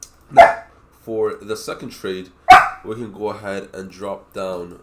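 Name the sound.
dogs barking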